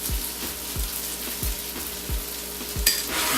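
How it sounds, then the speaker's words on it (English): An egg frying in a hot pan for fried rice, a loud steady sizzle punctuated by regular low thumps about every third of a second, with a brief sharp clink near the end. "Take one fresh egg, go ahead and crack it right in the middle."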